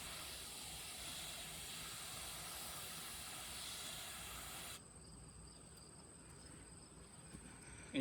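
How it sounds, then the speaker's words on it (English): Garden hose on a mist setting spraying a tray of soil for chard microgreens, a steady close hiss that runs for about five seconds and then cuts off, leaving quiet room tone. "Set my hose to mist so it doesn't just blow all the soil around."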